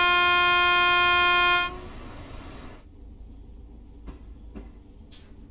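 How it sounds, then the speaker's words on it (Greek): Train in the video game Train Sim World 2 on a Glasgow line to Newton and Neilston, opening with a loud sustained horn that cuts off, then low rolling rumble with a few faint clicks and knocks. "Είναι ωραία αυτά τα τρένα."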